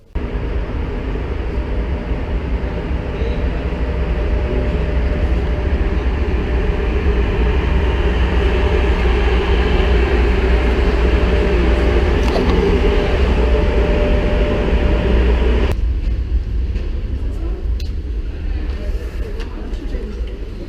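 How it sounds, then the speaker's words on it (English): Train to Bukhara at Samarkand station, a loud continuous rolling rumble for about fifteen seconds that then eases off, with voices talking underneath. "I think that's our train to Bukhara."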